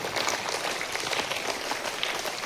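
A school assembly audience at the start of a new academic year applauds loudly and continuously, a dense wash of clapping with no pauses throughout.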